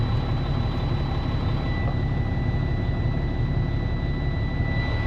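Old Sterling truck with a Caterpillar engine running at a steady idle, a loud, even low rumble with a faint high whine over it and no talk.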